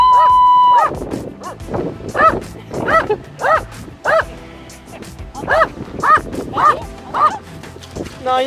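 A dog barks repeatedly at close range, in uneven bursts of sharp yips and barks with brief pauses between them.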